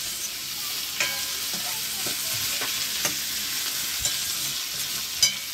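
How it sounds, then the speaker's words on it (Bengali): Food sizzles steadily in a pan while being stirred for idli sambar, a continuous frying hiss broken by occasional sharp clicks of a utensil against the pan, close and without speech. "ওটাকে নাড়তে হবে, ম্যাসেজ করতে হবে সুন্দর করে, ফ্রাই করতে হবে"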